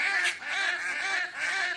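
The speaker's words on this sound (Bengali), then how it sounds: "হাঁস ডাকছে শুনতে পাচ্ছ তোমরা" Ducks at a village pond in Ramjibanpur, Medinipur, give loud, nasal, honking quacks in a rapid run of three or four calls that are close and clear. No one speaks.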